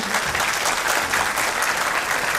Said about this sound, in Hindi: एक बार जोरदार तालियां हो जाए साहिल त्रिवेदी मैम के लिए